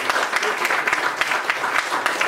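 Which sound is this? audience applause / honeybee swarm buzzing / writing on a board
audience applause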